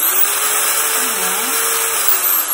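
Electric drill running steadily after its trigger is pressed, a continuous high motor whine with a brief dip in pitch midway, close and alone without talk.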